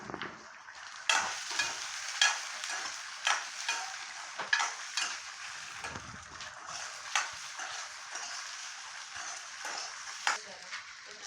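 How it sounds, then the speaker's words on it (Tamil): Okra sautéing in a pan with a light sizzle under repeated scraping stirs of a spoon, each stroke sharp and close, with talk heard at moments. "வெண்டைக்காய் பாருங்கள் வதங்கிருச்சு நல்லா."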